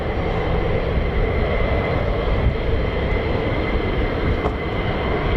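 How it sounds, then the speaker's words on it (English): A US Air Force military jet aircraft, likely an F-15 or F-35 of the 48th Fighter Wing, flying at RAF Lakenheath, heard as a steady, loud, broadband engine roar that holds level throughout with no talk. "Same aircraft that went out earlier."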